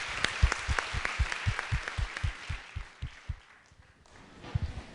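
Audience applause after a university lecture on race, place and food, a room of clapping with steady loud claps up front that thins and fades toward the end.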